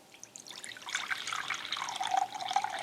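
Distilled water poured into a measuring container, a thin splashing trickle that swells and turns brighter as the container fills, close and fairly quiet.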